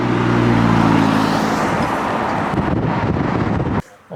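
A Ferrari F50 and a Pagani Zonda F cruise through the streets of Carmel during car week. A loud, steady engine roar mixes with wind buffeting on the microphone, then cuts off abruptly near the end.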